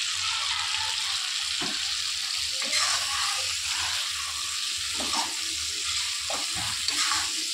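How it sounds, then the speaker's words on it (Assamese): Potatoes frying in spiced oil in a pan give a steady, close sizzle and crackle with occasional stirring scrapes throughout, and no one speaks over it. "ইয়াত মই এতিয়া আলু দি দিম, আলু লগতে ভাজি ল'ম"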